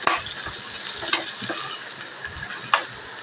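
Potatoes and pointed gourd sizzle lightly in a little oil, a close, continuous crackle broken by a few louder pops and stirring scrapes.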